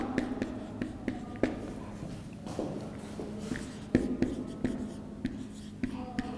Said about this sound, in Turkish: Bunun tarifini yazalım.